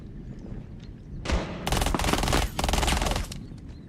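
Rapid automatic gunfire from a Rainbow Six Siege tournament match comes in dense, loud bursts, with a single shot followed by two long volleys and a short pause between them.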